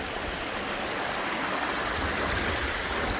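A small river flows steadily nearby, a continuous rushing wash of water with no other sounds.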